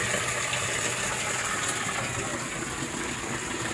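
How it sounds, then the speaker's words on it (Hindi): Sweet spring water in Kashmir flowing and gushing out, a steady close splashing rush that holds evenly throughout without pause, and no one speaking. "मीठा पानी आता हुआ पानी।"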